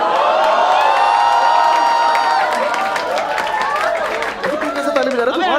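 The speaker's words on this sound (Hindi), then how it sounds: "कैसे ताली बजा रहे हो तुम?" An audience at a quiz competition claps and cheers in a dense, close burst, with excited voices and chatter mixed through the applause.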